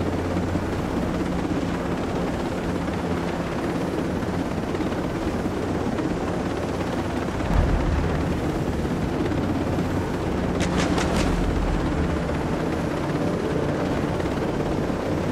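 A helicopter flies in Ghost Recon Breakpoint with a steady, loud rotor drone and engine hum throughout, joined by a brief thump and a short burst of sharp clicks near the end.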